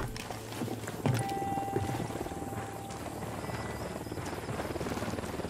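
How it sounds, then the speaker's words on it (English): Helicopter in the video game Ghost Recon Wildlands approaching, a steady rotor drone that holds loud throughout, with a sustained tonal whine layered over the low throb and brief bumps of other game sounds. "Unidad bird approaching."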